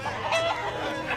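Cartoon chickens clucking, a short burst of quick clucks heard alone over a faint background.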